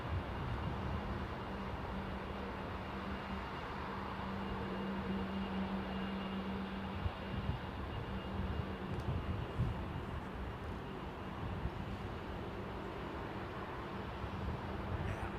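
Emirates Airbus A380 on its takeoff run at London Heathrow, a distant, fairly faint continuous engine rumble with a low steady hum that stays even throughout.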